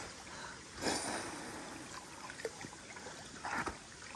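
River water flows in a quiet, steady trickle with a few small splashes and knocks, faint and close by.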